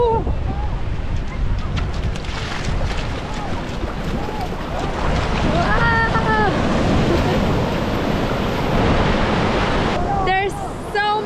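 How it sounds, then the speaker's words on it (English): Big waves surge and break continuously on the Indian Ocean shore at Palolem Beach, Goa, a loud, steady roar of surf with wind noise, and voices speak over it. "There's so many quite big waves."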